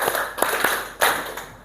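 A classroom group claps together in a short pattern, several sharp, close hand claps spaced unevenly with a pause before the last ones, and no talk over them.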